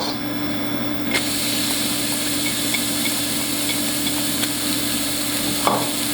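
Onions tipped into a pan for mulligatawny soup, frying with a steady, even sizzle that carries on throughout, with a brief clatter near the start.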